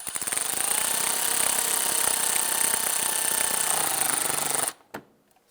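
A power driver runs fender screws into a 2011–2019 Ford Fiesta front bumper, a loud, continuous high whirring buzz that stops abruptly, followed by a single faint knock.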